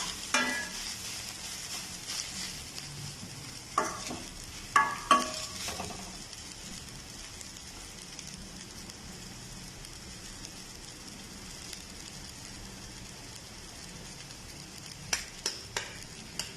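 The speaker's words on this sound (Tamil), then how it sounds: "இதோட நம்ம வச்சிருக்க மசாலா, உப்பெல்லாம் சேர்த்து நல்லா வதக்கிக்கலாம்." Drumstick flowers sauté with masala and salt in a pan, a soft, quiet sizzle punctuated by a few sharp stirring scrapes and taps near the start and end.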